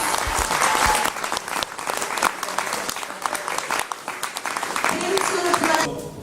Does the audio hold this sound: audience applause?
yes